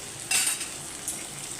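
Mustard and cumin seeds sizzle in hot oil for an okra fry, a brief steady hiss with a couple of sharp utensil clinks close by.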